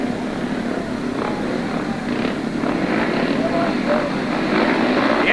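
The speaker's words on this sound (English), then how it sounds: "Engines roar." Speedway motorcycle engines roar together at the start of a heat at the 1994 British Final, a loud, steady, rasping drone that holds and swells slightly throughout.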